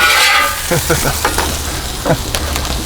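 Chicken cheesesteak meat sizzles and crackles on a Blackstone flat top griddle over low heat, a steady close frying hiss punctuated by several sharp scraping or stirring strokes.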